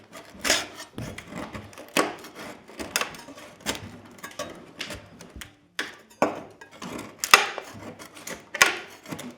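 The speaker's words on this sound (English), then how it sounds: "You can pretty much scrape until it's not coming up so much anymore." Damaged plaster being scraped off an interior wall down toward the brown base coat, with close, uneven rasping strokes and gritty scratches repeating in irregular bursts, separated by short pauses.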